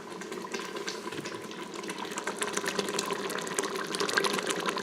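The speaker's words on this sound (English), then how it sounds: "Right now the saute feature is just like boiling this, and it does not seem to be thickening at all." Buffalo chicken sauce bubbles steadily in an Instant Pot on the sauté setting, a constant close seething and gurgling with small pops, rising slightly toward the end, with no voices.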